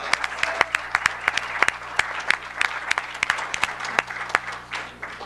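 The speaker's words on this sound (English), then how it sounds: "Let's give them another big round of applause." An audience at a school board meeting applauds a martial arts coach and his students, a dense round of clapping with sharp individual claps standing out, steady and fairly close throughout.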